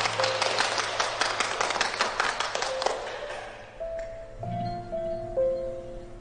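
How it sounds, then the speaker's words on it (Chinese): Group applause welcoming a newly appointed hotel lobby manager at the Yunju hotel fills the first three seconds, dense and close, then fades into quieter background tones and murmurs. "大家鼓掌欢迎。"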